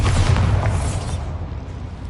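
A Bombarda blasting spell goes off in a Harry Potter video game, a loud, deep boom right at the start that rumbles and fades out over about two seconds.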